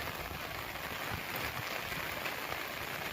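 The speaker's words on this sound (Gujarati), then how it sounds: "અમારે તો ધોધમાર વરસાદ પડી રહ્યો છે" Steady, dense rain pours down without letup, a constant broadband hiss of a heavy unseasonal downpour with no voices.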